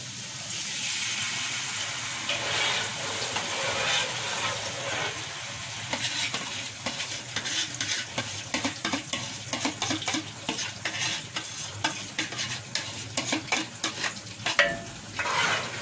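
Tinned tomatoes mixed with water go into a pot for beef stew and are stirred, a close sizzling, bubbling fry under repeated scraping stirs of a utensil against the pot, with no talking.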